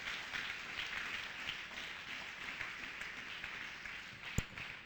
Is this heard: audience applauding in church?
yes